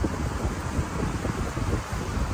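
Strong wind during a blizzard warning near Sioux Falls, South Dakota, roaring as a dense, steady rush with low gusty buffeting against the microphone and no voices.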